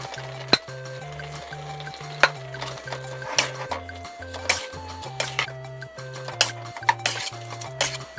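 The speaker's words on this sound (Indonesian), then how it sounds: "Diaduk rata terus ya guys" Fried rice vermicelli being stirred in a pan: repeated sharp scrapes and knocks of the utensil against the metal, irregular and close, over a low continuous sizzle, with no talking.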